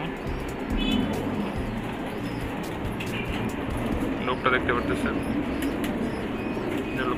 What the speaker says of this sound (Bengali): খাকি নর কবুতরটা